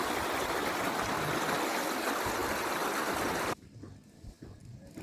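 Clear water from a hillside spring rushes over stones in a rural Lao village stream, a loud, steady broadband wash that cuts off abruptly near the end, leaving only faint background trickle.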